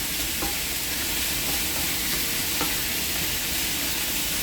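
Peppers frying in butter in a pan, a steady close sizzle and hiss that runs unbroken throughout with faint occasional stirring clicks and no voices.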